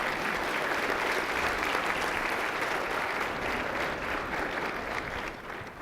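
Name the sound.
applause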